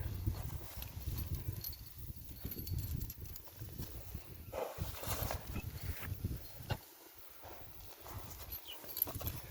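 A draft-breed stallion is led outdoors, and its hooves give irregular dull thuds and clip-clops on the ground at close range, over constant rustling background noise.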